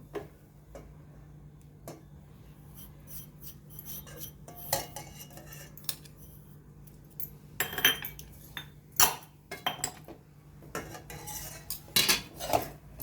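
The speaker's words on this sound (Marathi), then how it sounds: "हे चांगलं मिक्स होऊन द्यायचं आहे" A spoon scrapes and clinks against a bowl while powdered sugar and milk powder are stirred together, producing irregular close metallic taps and chinks that grow busier toward the end, with no talking.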